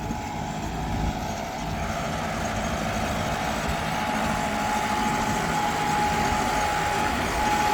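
An automatic tractor moving on its own, giving a steady, continuous engine drone and rolling rumble with no pauses.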